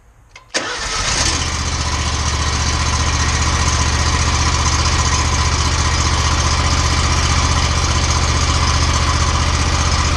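An Exmark lawn mower engine being converted to propane cranks and catches about half a second in, then runs at a loud, steady idle to burn off the gasoline left in its fuel system, close and unbroken.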